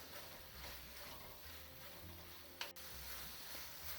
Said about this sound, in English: So now you fry the tomatoes for another 2 to 3 minutes.